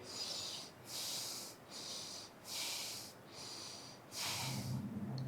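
Deep yoga breaths, three slow inhales and exhales in a steady rhythm, close and soft with a hiss of air through the nose and no talking.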